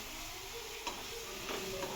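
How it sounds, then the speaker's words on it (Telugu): Ginger garlic paste frying in a pan with onion for a chicken curry, a close, steady crackling sizzle with a few spatula stirs. "అల్లం వెల్లుల్లి పేస్ట్ ఫ్రై అవుతుంటే"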